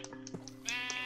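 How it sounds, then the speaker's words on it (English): Blocky Minecraft sheep bleating repeatedly as it drowns in a hole in the video game, a few short harmonic baas in quick succession, the last ones louder and longer. "This same sheep has been drowning in the same hole for like the past hour."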